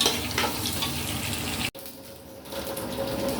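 Onions sizzling in hot oil in a pan for an Arabian kabsa dish, a steady crackling fry that briefly cuts out and then resumes more softly, close and clear.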